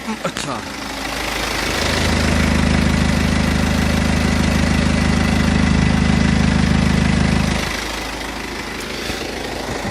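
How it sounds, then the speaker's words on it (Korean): A BMW 118d diesel engine idles with a low, knocking rumble, growing louder and steadier in the middle before settling back to a quieter idle. "BMW 같은 경우에는 이게 둔탁한 디젤음이 특징이죠"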